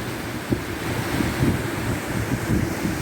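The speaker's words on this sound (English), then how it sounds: "Wonderful waterfall for canyoning, absolutely impossible for scrambling up." A mountain beck's waterfall roars as a constant broadband rush of falling water, loud and close, mixed with gusty wind buffeting the microphone.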